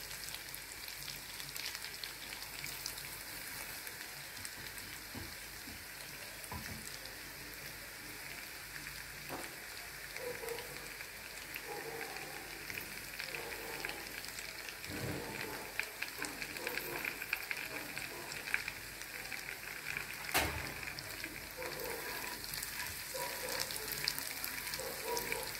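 Garlic fries in a pan for honey chili chicken, a soft, even, rain-like sizzle that runs steadily throughout with occasional faint stirring knocks, quiet and without speech.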